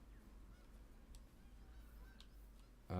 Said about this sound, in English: Can hear more geese.